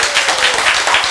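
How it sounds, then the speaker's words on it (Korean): A church congregation bursts into dense, loud applause, many hands clapping at once in a brief, sustained burst with no talk over it. "박수!"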